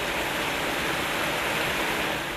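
Water gushes steadily from the twelve spouts of a spring-fed village fountain at Fuente Heridos in the Sierra de Huelva, a dense, continuous close rush and splatter with no pauses and no voices.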